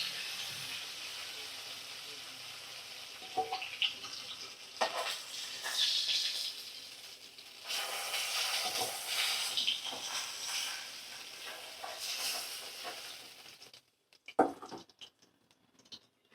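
Fried Bhola fish pieces are lifted one by one from oil in a karai, a soft sizzling patter with intermittent spatula scrapes and clinks, dropping to near quiet at the end.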